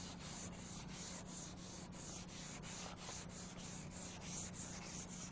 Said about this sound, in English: come back and sand the spot and glazing putty with 180 to